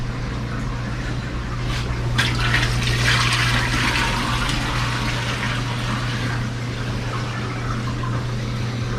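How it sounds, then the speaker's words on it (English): Water pours steadily back into the sump beneath a 200-gallon predator aquarium, a continuous splashing stream over a constant low pump hum, close and fairly loud. "We'll dump a little bit of this water back into the sump."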